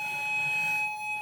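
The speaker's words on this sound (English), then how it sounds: "The fire alarm is going off at our cubicle flat, or at our flats in London" Fire alarm sounding in a block of flats in London: a loud, steady electronic tone holding continuously throughout, with no voices.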